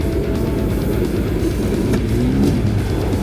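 Ford Raptor pickup truck on SDI E-Click shocks in normal mode, driving off-road with a steady, loud low engine drone and rumbling, bucking chassis noise throughout.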